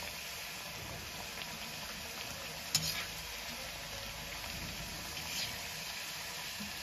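Small wheat flour and moong dal mathri fry in oil while being stirred, giving a soft, even sizzle with a couple of faint scraping knocks, heard alone and fairly quiet.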